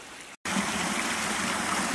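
A stream rushing at the base of a waterfall during prospecting in British Columbia's Cariboo region, a steady close, full wash of flowing water after a brief dropout at the start.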